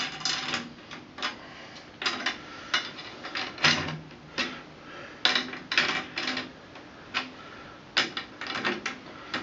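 Metal tension rods are spun down into the lugs of a Premier drum, giving a series of short rattling, ticking bursts that repeat unevenly and sound close-up and moderately quiet.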